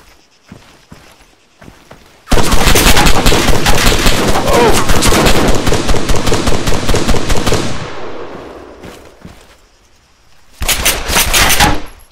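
Loud, dense gunfire erupts in Arma 3, a fast string of sharp close shots that lasts several seconds and then stops, with a second short burst near the end after a quieter gap.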